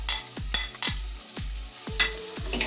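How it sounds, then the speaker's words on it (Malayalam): Tomato, kudampuli and curry leaves being stirred in a pan for fish-head curry, several distinct spoon scrapes in a loose rhythm over light frying, close up with no voices. "ഇവയെല്ലാം കൂടി കൂട്ടി ഇളക്കുക"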